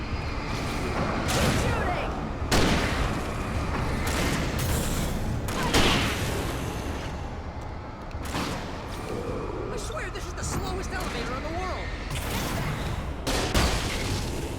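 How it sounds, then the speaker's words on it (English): Gunfire in the video game Alan Wake, with repeated sharp blasts bursting through a dense, loud game soundscape while a voice talks over the action. "Shooting."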